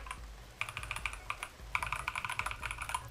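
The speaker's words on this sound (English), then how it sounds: "If you guys prefer, like, you know, this type of keyboard sound." Typing on a computer keyboard with soft, muted keys gives quick runs of close keystrokes in two bursts, with a steady low background hum and no talking.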